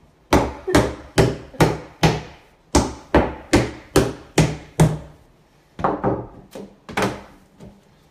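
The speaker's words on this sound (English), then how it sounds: "Make sure your fabric is tight before you staple." A staple gun fastens fabric onto a wooden chair seat, giving about fifteen sharp, close thunks in quick regular runs, a short pause, then a few more.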